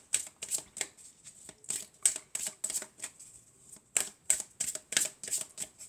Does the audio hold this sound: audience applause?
no